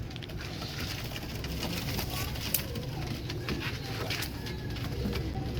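Blue-eyed pigeons cooing softly amid a steady, dense background of bird noise and rustle, continuous throughout without any clear individual calls standing out.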